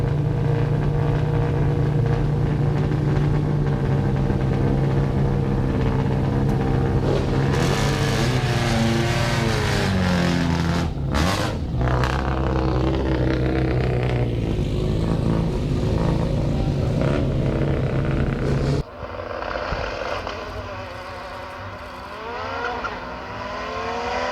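A car running at the Goodwood Festival of Speed, its engine note a steady droning roar that shifts pitch as it passes, with a sudden change in tone near the end.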